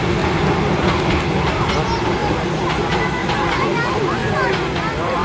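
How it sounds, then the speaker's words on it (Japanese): A Sotetsu Moya 700 series train rolls by on the Sotetsu Atsugi Line with a continuous rumble and faint rhythmic clatter of wheels, while voices murmur in the background. "電車、珍しい電車が通っております。"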